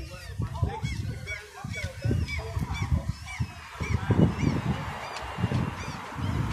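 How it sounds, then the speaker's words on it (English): Gulls call repeatedly in the distance over a rough windy outdoor background on the Stockholm waterfront, their cries overlapping with some low voices nearby. "Seagulls."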